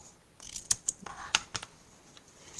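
Scissors snip paper for a Stampin' Up scrapbook page layout, a few quiet, sharp close-up cuts spaced irregularly over a faint background.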